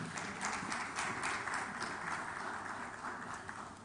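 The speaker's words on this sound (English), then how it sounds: "A round of applause for him." An audience claps at a business conference as a panelist is welcomed, a fairly quiet, continuous patter of many hands heard from a distance.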